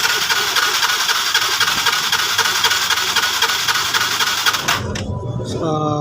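A Yamaha Mio Sporty motorcycle engine turns over with dense, steady mechanical noise for several seconds, then abruptly cuts to a quieter idle-like tone near the end, heard close up.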